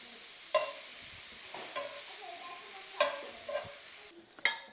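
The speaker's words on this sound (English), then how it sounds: "A little bit of extra sear there for the finishing touches." Sous vide meat gets a final sear in a pan at home, heard as a faint, low sizzle broken by several sharp scrapes and clinks of stirring or turning, close and without speech.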